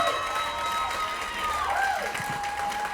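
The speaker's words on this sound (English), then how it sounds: "how about a round of applause for all the performers tonight?" Applause and crowd noise from a comedy show audience, steady and fairly dense, with some cheering tones mixed in over the clapping.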